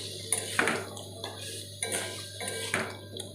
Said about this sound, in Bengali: কাঁকড়াগুলো দিয়ে মশলার সাথে ভালো করে মিশিয়ে নিতে হবে।